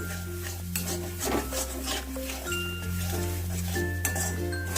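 Ingredients for a wedding-style Bengali cauliflower roast being stirred in a pan over a low gas flame, with soft scraping and clinking of the spoon against the metal in steady strokes, close and fairly quiet, under a low steady hum.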